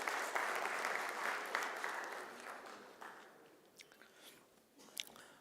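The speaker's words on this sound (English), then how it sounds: "A huge round of applause, please." Audience applause at a government investment roadshow at the India Pavilion, Expo 2020 Dubai: a faint, steady wash of clapping from a hall crowd that gradually thins and trails off into a few scattered claps.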